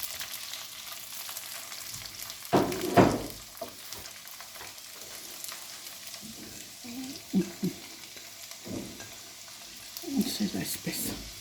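Onions frying and sizzling in a pan, with a steady hiss under repeated scraping stir strokes of a utensil, close up, while someone talks over it.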